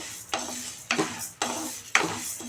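Black urad dal lentils dry-roasting and being stirred in a pan over a low flame, giving four dry scraping, rattling strokes at a steady rhythm, close and moderately loud with no talk.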